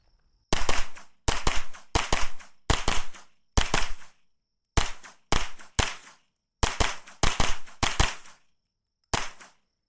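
A JP Enterprises JP-5 9mm pistol caliber carbine fires Sierra hollow-point rounds at targets, loud sharp shots in quick pairs and strings with short pauses between bursts, close and alone.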